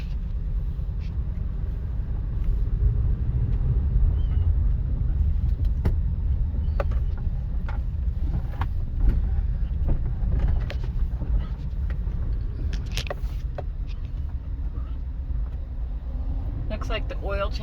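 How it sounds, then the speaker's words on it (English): A 2006 Honda Element on a test drive, with a steady low engine and road rumble heard from inside the cabin, plus occasional light clicks and rattles throughout. "Okay, now we're going to take it for a drive"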